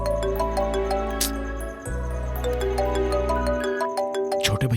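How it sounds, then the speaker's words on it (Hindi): A phone rings with an incoming call in a Hindi-dubbed South Indian film, its melodic electronic ringtone repeating in bright tones, with a short break in the low tones partway through. "सॉरी प्रताप, तुम्हें इस वक्त फोन करके डिस्टर्ब किया।"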